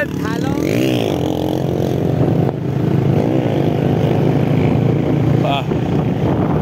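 A motorcycle with a ceramic-coated engine revs loudly close by, its pitch sweeping up and down in repeated surges during a street cut-off exhaust test in Iran. Muffled voices mix in under the engine roar.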